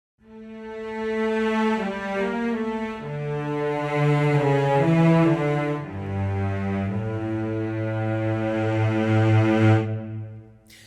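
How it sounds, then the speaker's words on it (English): A cello section rendered by the Hollywood Strings 2 library in its standard mix plays sustained, legato low notes that shift pitch every second or two, rich and resonant, with no talk over it. "So here are the celli."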